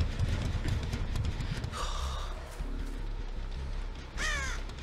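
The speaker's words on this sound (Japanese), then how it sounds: "まだカラスが。" Crows caw in the Dead by Daylight video game, two harsh rasping calls standing out over dense game ambience and low rumbling.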